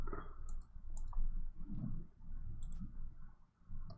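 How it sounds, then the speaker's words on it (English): Quiet, sharp clicks of a computer mouse during Minecraft farming, a handful of isolated taps spaced irregularly over a soft low background hum. "So you can probably hear my mouse clicking."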